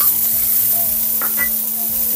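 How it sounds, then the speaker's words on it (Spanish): Garlic and onion fry in hot olive oil in a heated pan, giving a loud, steady, close sizzle broken by a few soft stirring scrapes, with no voices. "El ajo lo vamos a sofreír un par de segundos nada más."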